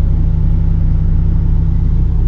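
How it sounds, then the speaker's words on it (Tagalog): A motorcycle engine runs steadily with a loud, low, throbbing idle close by as a painter arrives at a house project in Santo Tomas, Batangas, the note constant for the whole moment and no voices heard. "Ayan, nakamotor pa."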